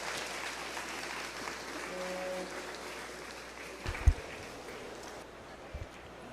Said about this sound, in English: Let's give these exhibitors a round of applause as they exit the ring.